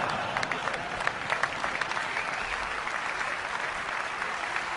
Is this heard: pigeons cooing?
no